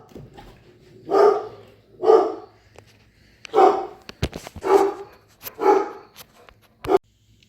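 A pet dog barks on command, about six single woofs spaced roughly a second apart, close and clear with quiet gaps between them and no talking over them.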